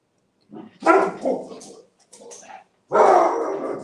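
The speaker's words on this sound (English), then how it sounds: "my dogs are gonna go off because my son's coming in" Several pet dogs bark indoors at home as a family member arrives, loud close bursts in two spells with a short gap between them.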